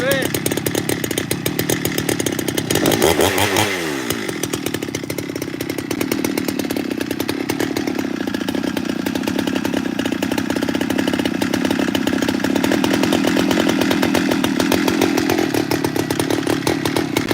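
A chainsaw runs continuously and loud while cutting a log in a forest, its engine holding a steady high drone that dips briefly early on, with no voices over it.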